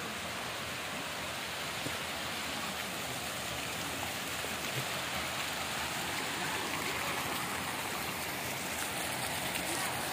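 Natural spring water flows down from the top of Nishat Garden in Srinagar, a steady, dense rushing wash that fills the whole stretch evenly with no breaks and no voices.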